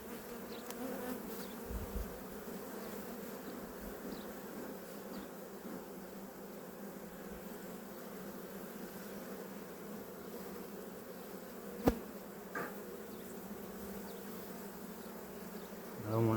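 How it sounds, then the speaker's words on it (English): Honeybees hum steadily around an opened hive during a first spring beehive inspection, a continuous close buzzing with a few faint knocks and handling sounds. "I don't want to smash no bees when I put this other box on, so I'm trying to smoke them down here some."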